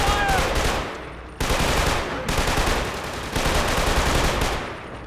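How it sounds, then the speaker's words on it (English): Sustained automatic gunfire from enemy soldiers in the shooter video game Killzone 2, loud dense bursts of machine-gun fire rattling continuously with brief breaks between volleys. "We've got more enemy fire"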